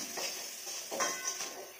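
Garlic, onion and nigella seeds frying in a pan, stirred with a utensil that gives three or four soft scraping strokes over a gentle sizzle, close but fairly quiet.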